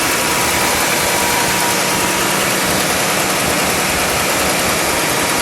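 A 1959 Dodge Custom Royal Lancer Super D500 convertible engine idles slightly high, a steady loud low rumble with constant mechanical drone and no talk.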